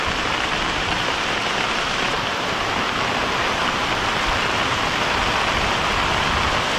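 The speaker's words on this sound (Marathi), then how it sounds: "आणि आता पाऊस पडतोय" Heavy first monsoon rain pours down steadily on a village in the Konkan, Malewad in Sawantwadi taluka, a dense, even roar of falling water that holds constant from start to finish with no voices.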